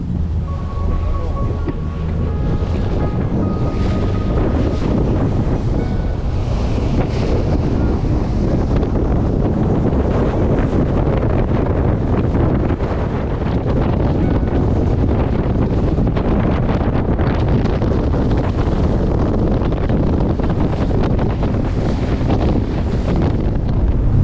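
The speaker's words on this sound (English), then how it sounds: "It's a 7-minute speedboat ride from the mainland." Speedboat crossing the sea from the Vietnamese mainland, with loud, constant wind buffeting the microphone over the roar of the hull and water rushing past throughout.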